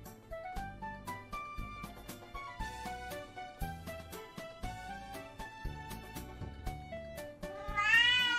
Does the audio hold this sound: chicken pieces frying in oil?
no